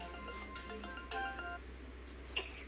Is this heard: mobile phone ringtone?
yes